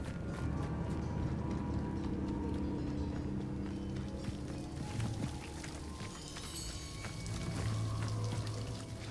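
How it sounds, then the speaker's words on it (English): A waterfall in the video game Hogwarts Legacy rushes steadily as a broad, continuous wash of flowing water that stays constant throughout. "The waterfall."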